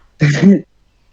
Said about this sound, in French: Non, non, j'ai toussé.